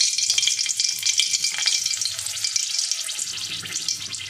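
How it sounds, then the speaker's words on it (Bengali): Dried red chilies hit hot oil in a pan and crackle into a bright, busy sizzle with sharp popping spits, loud and close, continuing steadily with no talk. "দেখুন বন্ধুরা তেলটা কিন্তু গরম হয়ে গেছে। আমি শুকনো লঙ্কাটা দিয়ে দেব।"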